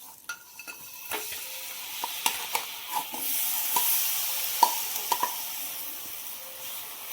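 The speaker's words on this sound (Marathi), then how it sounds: "1 वाटी गूळ बारीक करून घेतलेला आहे. हा पण आता या तुपामध्ये घालून घेऊया." Jaggery and sesame seeds are stirred in ghee over a low flame, with a soft steady sizzle and scattered scraping clicks from a spoon against the pan, fairly quiet and without talk.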